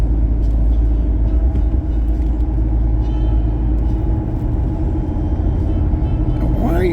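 A car drives along an icy road at about fifty, making a loud, steady low rumble of road and engine noise that continues unbroken throughout.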